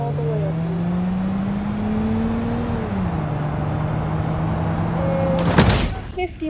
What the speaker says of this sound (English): Launching in 3, 2, 1, go. Throttle is all the way up.